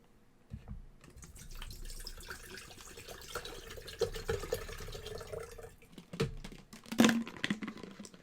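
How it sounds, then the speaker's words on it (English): Water pours and splashes into a container for a few seconds, with clinks and handling noises and a sharper pour near the end. "Let's add some water."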